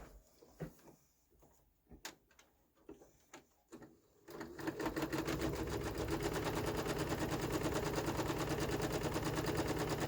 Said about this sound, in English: I'm going to go over to the sewing machine.